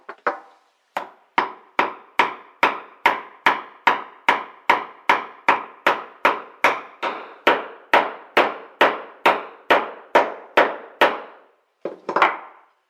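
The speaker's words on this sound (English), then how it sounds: "I'm just going to be chiseling down to the line." Rapid series of sharp mallet-driven chisel strikes cutting a dovetail joint in soft hewn pine, about two blows per second with a steady rhythm, close and loud with no talking, ending in a brief pause and a final flurry.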